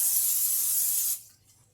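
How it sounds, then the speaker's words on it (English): Non-stick cooking spray blasts from a can onto a baking dish in one steady, close, loud hiss lasting about a second, then cuts off to near quiet. "I'm going to lightly spray my baking dish with non-stick cooking spray"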